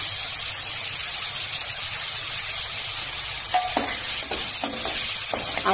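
Chopped ginger and garlic sizzle steadily in a hot pan, a constant bright frying hiss with a few light scraping and stirring clinks toward the end.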